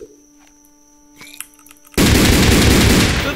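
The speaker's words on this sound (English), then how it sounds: "Shotgun." A shotgun firing in a Wild West video game, a single loud, sudden blast that cuts in after quiet game tones and a brief noisy sound, then sustains as a dense roar to the end.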